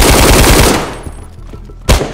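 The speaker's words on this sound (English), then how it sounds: "He's shooting." Gunfire in the video game DayZ: a loud rapid burst of shots for under a second that fades out, followed by a single sharp shot.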